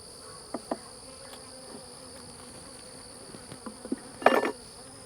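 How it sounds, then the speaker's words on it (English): A steady high insect drone of many honeybees buzzing on a hive frame close by, with occasional louder buzzes flying past and a few faint taps. "lots of bees on this frame."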